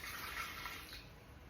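Water pours steadily into a Thermomix bowl for plain bread dough, a continuous soft splashing stream lasting just over a second, close and fairly quiet.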